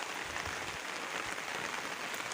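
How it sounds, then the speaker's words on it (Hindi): Heavy rain pours steadily over a village, a dense, even hiss of drops on surfaces that stays loud and continuous throughout with no voices. "बारिश गिरा बा तो"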